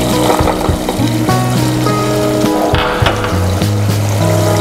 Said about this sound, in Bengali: মশলাটা কষানো হয়েছে, এখন আমি দিয়ে দিচ্ছি মটরশুঁটি।